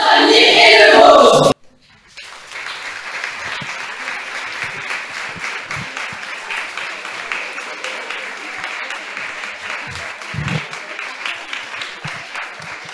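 An audience at a school climate-education prize ceremony gives Collège de l'Argonne students a long, steady round of applause after a brief spoken introduction.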